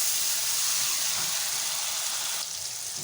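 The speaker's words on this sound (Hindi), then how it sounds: "देखिए अभी मसाला कितने अच्छे से भून रहा है" Masala mixed with yogurt frying in a pan, a steady bright sizzle and hiss of hot oil that continues throughout and softens slightly near the end.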